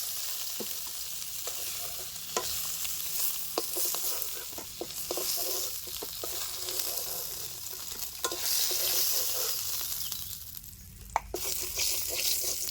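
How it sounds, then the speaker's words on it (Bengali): Fried bau fish pieces being lifted from a pan of hot mustard oil: a continuous close sizzle with repeated scraping and clinking of a spatula against the pan, plus a sharp knock near the end. "মাছের টুকরোগুলিকে আমি ভেজে নিয়েছি, ওখানে আমি উঠিয়ে নিচ্ছি।"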